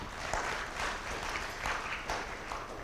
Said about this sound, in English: And I welcome you to give a round of applause to all those who presented.